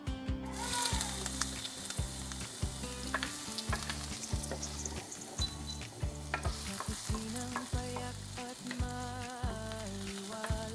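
Ginger pieces frying in hot oil in a heated pan, sizzling steadily with a loud rhythmic stirring scrape repeating throughout, close and with no talk.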